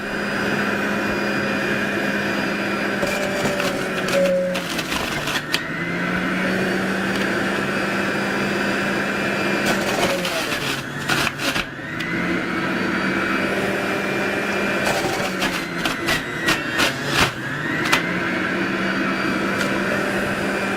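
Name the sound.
juicer juicing carrots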